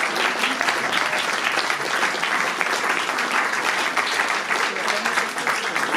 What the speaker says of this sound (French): Oui, ça s'applaudit, ça s'applaudit.